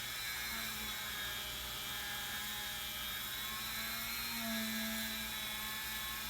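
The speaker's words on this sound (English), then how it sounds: "so don't overdo on the speed of the Dremel" Dremel rotary tool polishing the frets of a 1992 Fender Stratocaster guitar, giving a steady, close, high-pitched whir with a faint tonal hum that holds evenly throughout, with no talking.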